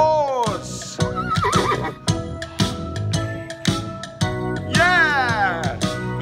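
A horse neighs in loud, shrill whinnies with rising and falling pitch, repeated several times close up, alongside rhythmic clinking and music-like tones.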